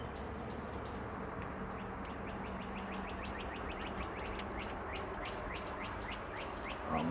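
Birds sing and chirp from up in a tree, a steady stream of many overlapping high calls and trills at moderate distance over a constant low background hum, with no talking.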